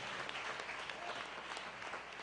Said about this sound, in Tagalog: Lahat po muna ng pinagpala, pumalakpak ng malakas.